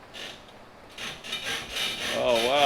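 Squeaking leaf springs on a truck after the spring pins were greased, heard as repeated rubbing, creaking squeals that grow louder and more tonal toward the end, close up with no talking.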